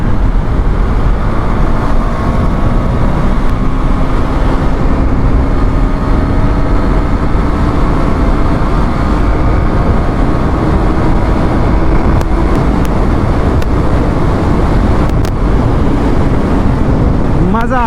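A motorcycle rides at speed on a road toward Dhurwa Dam, its continuous engine drone buried in a loud, unbroken rush of wind against the microphone.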